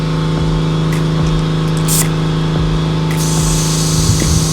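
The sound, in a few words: air being pumped into a tire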